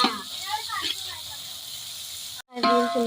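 Onion and curry leaves sizzle in a pan for soybean fried rice, a steady close hiss broken by a brief gap, while someone talks over the frying.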